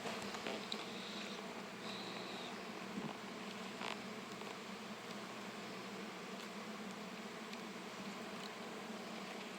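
Honey bees buzz steadily over open hive frames while smoke is puffed onto them, a dense, faint, continuous hum with a few brief louder buzzes passing close.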